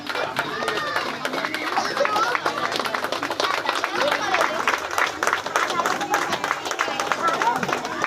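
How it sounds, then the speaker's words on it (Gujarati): An audience at a Ganesh festival gives sustained, dense applause in welcome of a guest, with scattered crowd chatter mixed in. "તાળીઓના ગડગડાટથી વધાવીશું."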